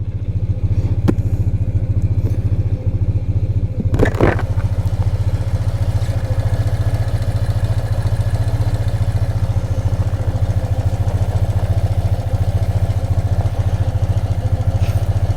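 A 1993 BMW R100GS in Mystic Red idles in neutral with a steady, loud, low rumble for the whole stretch. A single sharp clack is heard near the start.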